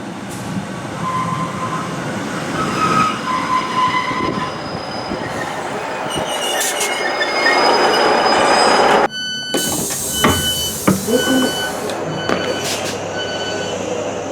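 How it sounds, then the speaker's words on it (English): A train on the East Kilbride line rolls along with rumbling wheels, clattering and screeching metal squeals, the noise swelling and shifting as it travels, loud and close. "So let's catch this train out and head to Hare Myers."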